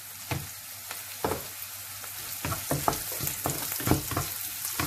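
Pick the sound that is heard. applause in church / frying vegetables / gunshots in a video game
frying vegetables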